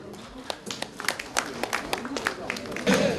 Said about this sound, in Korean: 우리가 같이 한번 인사드릴 때 큰 박수 보내주시면 감사하겠습니다.